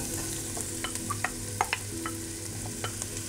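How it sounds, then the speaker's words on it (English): Onion frying in olive oil in a pan, a continuous close sizzle with scattered crackles and occasional soft stirring clicks, no voices. "Olive oil into the pan. I'm also going to add the onion."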